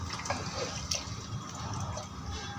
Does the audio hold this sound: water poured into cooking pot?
yes